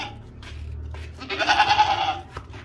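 A young, healthy male goat bleats once, loud and close, a wavering cry of about a second rising out of quieter rustling and low background noise.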